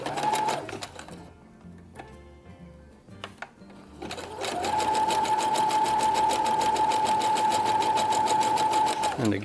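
A domestic sewing machine stitches a jumpsuit front to its back, with a short burst, then a pause with handling noise, then a long steady run of rapid needle strokes and a whining motor, loud and close.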